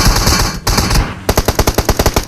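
Loud bursts of automatic gunfire in a video game, coming from a shooter far behind; rapid sharp shots in a dense run, then a short pause, then another evenly paced volley, with no talking.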